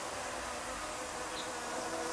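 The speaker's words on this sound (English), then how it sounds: "He's gonna go get in front of the camera, little bee." A bee buzzes close to the camera, a steady, faint whine that persists through the whole short moment.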